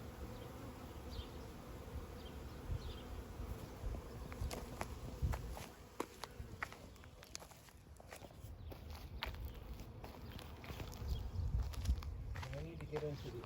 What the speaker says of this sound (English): I've got bees jumping